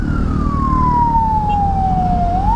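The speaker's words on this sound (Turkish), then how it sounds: "Ambulans bile takıldı biz aralardan falan geçemedik." An ambulance siren in traffic, heard as a loud, steady wailing tone that slides slowly down in pitch and then begins to rise again over heavy road and engine rumble.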